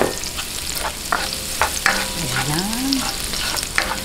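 Garlic sautés in a hot pan as the base for a Filipino-style seafood paella, a continuous sizzle broken by stirring scrapes, with a brief spoken word over it.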